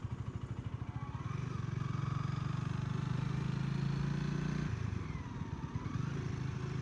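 Honda Rebel motorcycle riding in second gear around a long roundabout, its engine giving a steady, loud, pulsing drone that holds nearly constant and dips briefly before picking up again.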